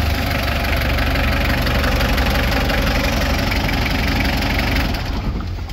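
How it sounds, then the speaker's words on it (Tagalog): A Mitsubishi 4D56 diesel engine with blow-by, awaiting general overhaul, idles loud and close with a steady low rumble and even diesel clatter, running continuously before easing slightly at the end. "Kasi yung makina niya kung napansin nyo napakatahimik."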